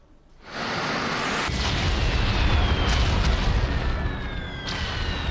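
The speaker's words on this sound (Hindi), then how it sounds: "ड्रोन आया, टारगेट हिट किया और जबरदस्त विस्फोट के साथ आग की ऊंची लपटें उठने लगी" A deep, powerful drone-strike explosion at an airport in Kuwait erupts and keeps roaring as a broad, rumbling wash of noise, with faint whistling tones threading through it.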